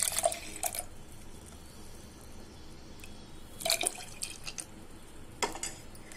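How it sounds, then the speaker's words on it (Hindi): Strained watermelon juice poured into a serving glass, heard as three short bursts of splashing liquid separated by quiet pauses, fairly close and soft. "अब इसे एक सर्विंग ग्लास में निकाल लेंगे।"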